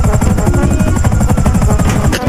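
Video game helicopter, its rotor thumping in a loud, steady rhythmic chop that fills the whole stretch close up, with no voices over it.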